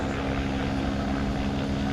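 A helicopter flying backwards during an air show, a loud steady engine drone and rotor hum with a strong low tonal whine, continuous and close throughout.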